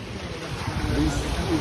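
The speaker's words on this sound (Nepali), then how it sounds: "यस्तो छाल आएको" Sea waves break on a shore in Japan, making a continuous rushing wash of water with a slight swell, close by, with people talking over it.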